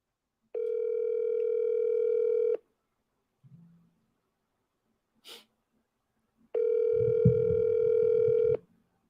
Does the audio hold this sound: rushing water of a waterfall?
no